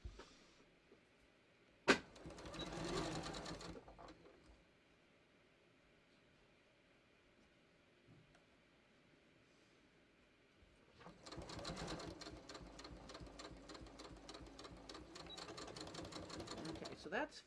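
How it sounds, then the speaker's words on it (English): A sewing machine stitches the shoulder and side seams of a top in two runs: a brief buzzing burst early on, then a longer steady whir after a quiet pause, near but soft. "I'm going to sew the shoulder and side seams"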